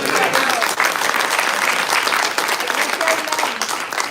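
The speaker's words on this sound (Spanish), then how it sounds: "Denle un aplauso." A church congregation applauds loudly and steadily, a dense wash of clapping from many hands filling the room throughout.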